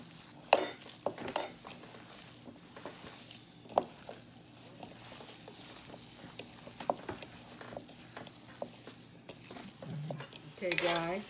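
A utensil stirs and scrapes an egg into a meatloaf mixture in a bowl, with soft irregular clinks and knocks close by, then a brief louder clatter near the end.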